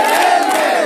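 A protest crowd of engineers chants a slogan back in unison, a loud massed group of voices in one brief sustained burst.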